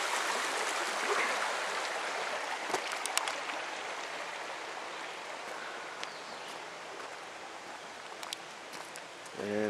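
Water in a shallow stream at a state park campsite runs with a soft, steady rush, fairly faint and continuous, with a few small splashes and knocks close by.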